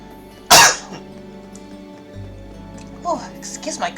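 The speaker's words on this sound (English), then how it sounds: "excuse my cough here" One sharp, loud cough bursts out near the start, then quiet room tone and a few soft sounds follow.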